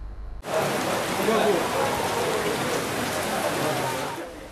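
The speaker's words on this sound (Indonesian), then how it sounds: "makan bersama dengan ditemani guyuran hujan" Steady heavy rain pours down over an open-air meal at a landfill site in Kediri, a dense continuous hiss that starts abruptly and holds loud and close throughout.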